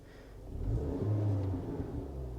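A Range Rover Evoque engine with P0016 and P0017 timing codes is briefly revved, a low rumbling rise that swells and then fades back to a steady idle over a couple of seconds.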